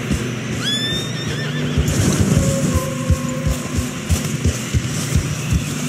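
A horse whinnies loudly up close in Red Dead Redemption, followed by rhythmic, muffled hoof thuds as it struggles through fresh snow, with low rumbling game ambience behind.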